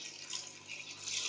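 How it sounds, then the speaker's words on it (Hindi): Water runs from a tap into a pot of chickpeas as a faint, short, steady splashing pour, with no voices. "अभी मैं इसको हस्बे ज़रूरत पानी शामिल करके"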